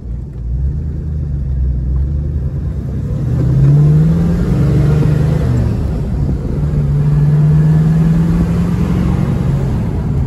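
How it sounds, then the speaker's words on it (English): A 1967 Camaro Convertible with a 4-speed Saginaw gearbox drives along steadily, its engine rumbling loud and close, with pitch rising and falling as it downshifts and revs through the gears. "I'll demonstrate that even at speeds, you can downshift it into first or second with no resistance whatsoever."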